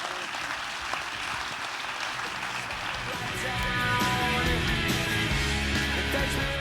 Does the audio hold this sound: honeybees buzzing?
no